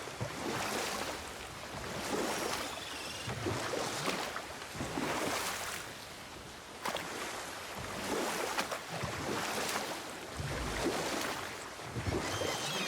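A boat is rowed across water in God of War, with rhythmic swells of splashing and rushing water about every two seconds, like oar strokes, over a soft wind-like wash and no talk.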